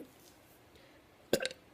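A single short, loud burp breaks a quiet, near-silent room, sounding close and abrupt.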